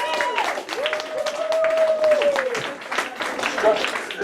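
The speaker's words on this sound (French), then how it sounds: "une meilleure main d'applaudissement" Crowd applause at a slam poetry session in a Montréal bar, dense clapping and cheering throughout, with a whistle-like tone and voices mixed in.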